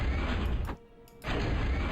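A Core vehicle unit in the strategy game Total Annihilation gives a loud mechanical rumble with a short break in the middle, a brief close burst of in-game sound.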